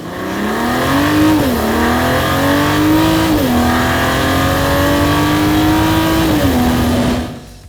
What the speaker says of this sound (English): what a high-performance, highly electrified AMG straight six hybrid turbo engine sounds like